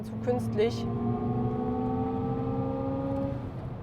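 A steady synthetic engine hum from an electric car's artificial sound system, with layered harmonic tones, sustained and fairly loud, with a brief rise at the start before holding even.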